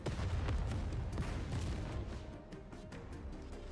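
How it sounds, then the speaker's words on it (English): Cannon blast slamming into a Rapture in the game NIKKE, a rumbling series of heavy booms and crackling debris, fairly loud and dense, fading slightly with no talk. "There's a massive explosion"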